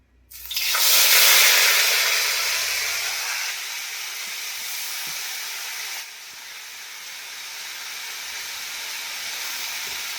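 Fish dropped into hot oil bursts into a loud, sudden sizzle that eases into a steady, close frying hiss lasting about ten seconds, with no talking.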